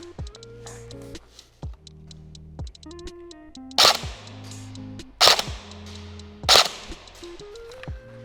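An Elite Force HK416 airsoft rifle fires three sharp, loud cracks a second or so apart, standing out over a steady tonal, music-like background.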